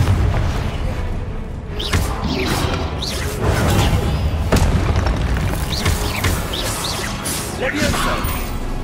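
Spell impacts and bursts from Confringo fire spells cast during Hogwarts Legacy combat, a string of loud booming blasts with whooshes over dense game noise, with voices heard in the background throughout.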